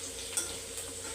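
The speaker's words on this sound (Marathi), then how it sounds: "लसूण परतूच ना" Garlic fries in a pan with a soft, close sizzle, joined by a couple of faint stirring clicks.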